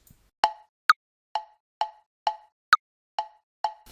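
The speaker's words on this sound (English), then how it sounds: "The next feature is the metronome sound. The default sound is this." Default metronome click from BandLab, ticking steadily at 131 beats per minute: eight crisp, evenly spaced clicks, with every fourth one higher-pitched as an accent, clear and alone.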